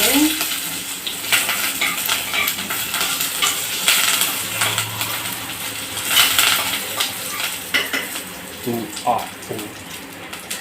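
Curry leaves and asafoetida sizzle and crackle in hot oil for a South Indian tempering, a loud, continuous hiss broken by sharp pops and stirring clinks.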